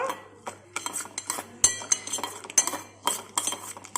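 Dried corn being stirred with oil and salt in a bowl, a busy run of clinks and scrapes from a spoon against the dish, with irregular louder knocks throughout and no speech.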